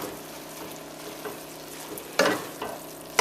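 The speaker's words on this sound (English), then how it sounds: "one final stir just to make sure we picked up all those flavors" Curry cabbage with stewed chicken stirred in a pot, a low steady sizzle broken by a couple of sharp scraping clanks of the spoon against the pot, close, no talking.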